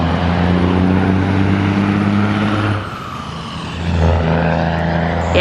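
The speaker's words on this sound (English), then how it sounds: "the truck that passed us that was making that noise struggling up this hill" A heavy truck engine labors up a hill with a deep droning growl close by, its pitch dipping briefly before straining on again.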